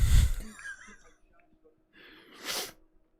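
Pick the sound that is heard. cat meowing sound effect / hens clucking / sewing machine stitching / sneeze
sneeze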